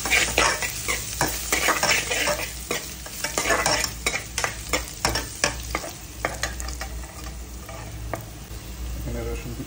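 Chopped garlic frying in oil for a fish curry, a steady sizzle broken by repeated sharp clicks and scrapes of a spoon stirring against the pan, close and continuous.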